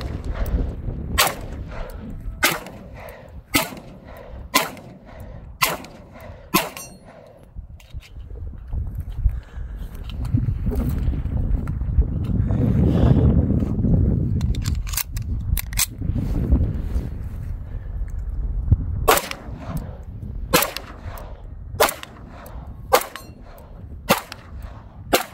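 Repeated sharp gunshots from a 1940 Russian TT-33 Tokarev 7.62x25 pistol ring out in bursts, with a quiet windy stretch in the middle, each shot followed by a faint metallic clang from a steel target about 50 yards away.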